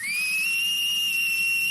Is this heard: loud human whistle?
yes